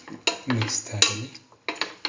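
A spoon scrapes and clinks against a cooking pan while a spice mixture is stirred in, several sharp metallic taps and scrapes in an uneven rhythm, close and fairly loud.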